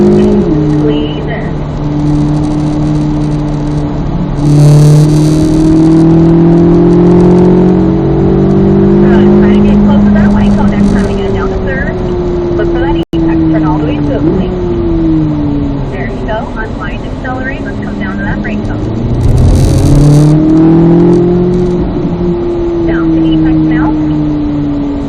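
Race car accelerating and easing off through the gears on a track during a coached track session with a racing driver, loud close engine rising and falling in pitch with shifts, an instructor's voice talking over it.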